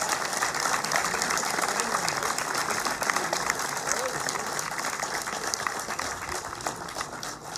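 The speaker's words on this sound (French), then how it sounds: "ces quatre femmes, je vous demande de les applaudir" An audience at a centenary celebration for a local company gives sustained, even applause from many hands, steady throughout with faint crowd murmur beneath.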